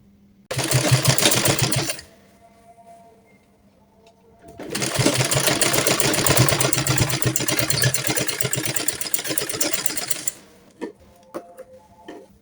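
A sewing machine stitches the sleeve of a baby dress, with two close bursts of rapid mechanical clatter, a short one then a longer run of several seconds, separated by a quiet pause and followed by faint handling clicks.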